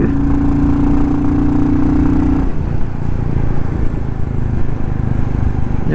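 A Royal Enfield Classic 350 single-cylinder engine fitted with a DNA air filter roars at full throttle, a steady loud continuous drone with a rising tone that drops partway through, close and without voices.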